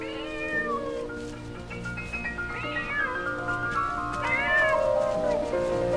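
Several clear cat meows over a musical backdrop in an animated Ukrainian folk legend about a cat and Noah's ark, the calls rising and falling at a steady loudness with no talk.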